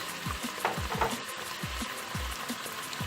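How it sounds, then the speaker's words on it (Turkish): Peas with cumin, chili flakes, salt and black pepper dropping into a hot frying pan, giving a continuous soft sizzle with stirring, close and fairly quiet. "Bezelyemizi ve baharatlarımızı atıyoruz."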